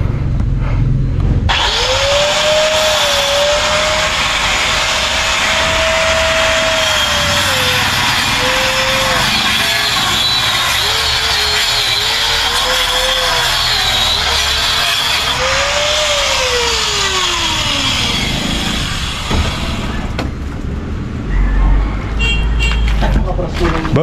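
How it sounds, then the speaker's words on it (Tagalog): Angle grinder cutting through concrete hollow blocks, a loud continuous whine with rising and falling pitch as the disc bites and slows, running steadily for most of the clip before cutting off near the end. "yung mga hollow blocks pinuputol gamit grinder."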